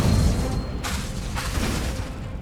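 In Hogwarts Legacy, casting the Incendio fire spell releases a muffled boom and a whooshing burst of flame, followed by a second rushing blast about half a second later over low rumbling in the game.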